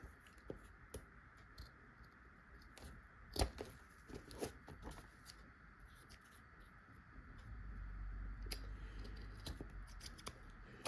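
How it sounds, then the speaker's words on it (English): Scissors trim paper edges on a handmade calendar journal: soft, irregular snips and crisp cuts, quiet and close, with a few louder snaps and no voices. "Cut these edges real good down here."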